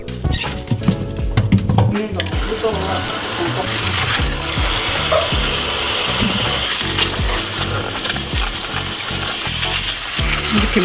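Tap water gushing steadily onto cabbage being prepared for salad-style kimchi, a continuous close splashing and pattering hiss that runs the whole time, with a voice talking over it.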